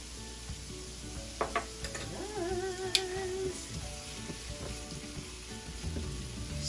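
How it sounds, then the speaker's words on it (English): Onion, garlic and celery sauté in a pan for sloppy joes, giving a soft, steady sizzle with a few light clinks of utensils, fairly quiet and continuous throughout. "all we have to do is just saute this beautiful onion, garlic, and celery"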